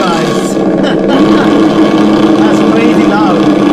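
Loud, steady engine drone from an ESS One Sound System simulator fitted to a car, with a little throttle given; it holds a continuous, close roar throughout.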